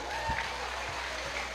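A church congregation breaks into brief applause, a dense wash of clapping from a crowd at middling distance that lasts only a moment.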